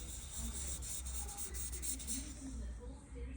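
Hand dry sanding with 1200-grit paper on card, flattening the surface before power tools: a soft, steady abrasive rubbing with faint rhythmic strokes, close and quiet, continuous for a few seconds without talk.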